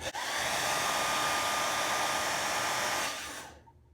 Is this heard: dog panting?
no